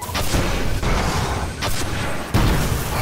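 Rocket launcher explosions in the Destiny video game boom repeatedly in heavy, continuous battle noise, with several sharp blasts standing out over a dense rumbling background.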